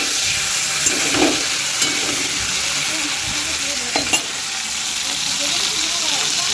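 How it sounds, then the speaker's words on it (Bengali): Prawns frying in a pan give a steady, even sizzle and hiss throughout, with a few faint clicks and scrapes from stirring, no talking. "এখানে চিংড়ি মাছটা ভাজা হচ্ছে।"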